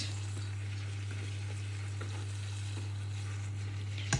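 Luchi, a puffed flatbread, deep-frying in hot oil over high heat, giving a steady, close sizzling hiss with faint bubbling and a strong low hum underneath, ending in a brief clatter.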